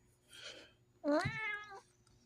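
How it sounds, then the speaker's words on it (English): A pet cat gives a soft, brief breathy sound followed by one clear, close meow rising then falling, in a quiet indoor setting. "You guys probably hear my cat, Shadow."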